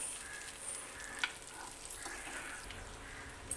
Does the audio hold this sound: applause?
no